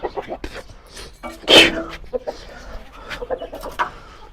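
A chicken squawks loudly in a short burst amid scattered clucks and scuffling, with people talking nearby.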